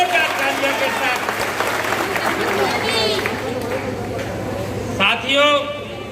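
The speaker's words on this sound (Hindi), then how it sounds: "एक बार जोरदार तालियों के साथ।" Loud applause from a political rally crowd at a BSP election event in Uttar Pradesh, a dense steady wash of clapping running throughout with a voice speaking over it and a few whistles or cheers near the end.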